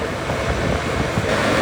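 Wind roars over a rider on a rented motorcycle who is not wearing a full-face helmet: a loud, constant rushing buffet that swamps everything else, with no voices.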